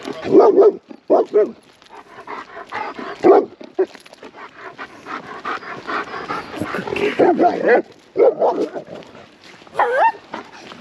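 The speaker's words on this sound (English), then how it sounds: "So there's the dog." A highly reactive German Shepherd barks repeatedly on a walk, loud bursts of barks and yips near the microphone with panting and a person talking between them.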